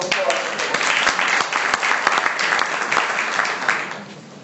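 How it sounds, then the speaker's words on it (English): Applause from an audience at a business presentation on a request for proposal, dense steady clapping at close range that thins slightly toward the end, with no voices over it. "Give her another round of applause."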